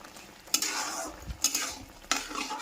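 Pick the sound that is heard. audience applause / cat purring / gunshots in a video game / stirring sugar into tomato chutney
stirring sugar into tomato chutney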